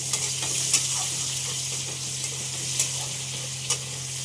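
Chopped onion hitting hot oil with cinnamon and a clove, a dense, continuous close sizzle with a few light stirring taps, no talk.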